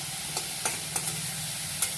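Ingredients frying in a pan with a low steady sizzle, a few sharp scraping stir clicks spaced through the short stretch.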